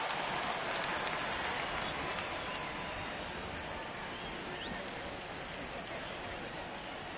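Steady rain falls on a baseball field during a game, a dense, even hiss that holds at the same level the whole way through with no breaks.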